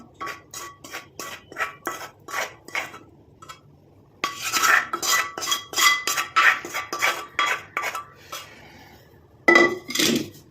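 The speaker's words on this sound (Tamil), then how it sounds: "இப்போ இந்த ஹேர் டையை ஒரு பவுலுக்கு நம்ம ட்ரான்ஸ்ஃபர் பண்ணிடலாம்." Hair dye being moved into a bowl, with a utensil clinking and scraping against the bowl in quick, uneven bursts, then a busier stretch of scraping and stirring close by. No talking.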